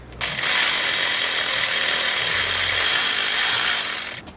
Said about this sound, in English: I'm going to use my electric ratchet for that one because access is not great